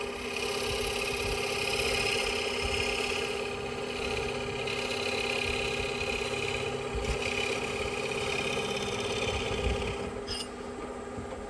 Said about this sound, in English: We're going to stop the lathe.